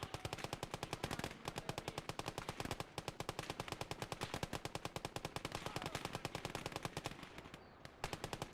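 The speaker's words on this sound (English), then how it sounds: "MG's still alive." Machine gun fire in the WWII strategy game Gates of Hell on a Finland conquest map, long dense rattling bursts of rapid shots with a couple of brief breaks, continuous and loud.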